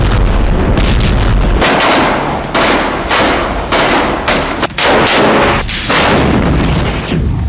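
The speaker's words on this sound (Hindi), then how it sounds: "गाजा में बरसता ये गोला बारूद इजराइल का प्रतिशोध है।" Heavy artillery and gunfire bombardment in Gaza, with loud repeated booms and bursts of shots crowding one another at close range, rumbling continuously without pause and with no voices.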